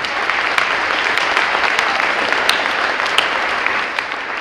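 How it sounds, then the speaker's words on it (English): Audience applause in a school hallway at an eighth grade orientation, many hands clapping in a loud, steady wash with a few sharper claps standing out, no talking. "Let's give them a round of applause out here in the hallway."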